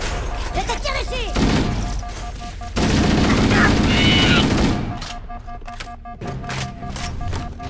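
Bursts of gunfire in the game Halo CEA rattle in rapid, loud volleys, with scattered game effects between the shots.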